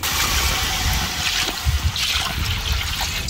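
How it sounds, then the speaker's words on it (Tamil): Cow's milk is poured into a pan of butter and garlic, giving a steady close trickle and splash of liquid with some soft gurgling. "இப்போ நம்ம பசும்பால் சேர்க்குறோம்."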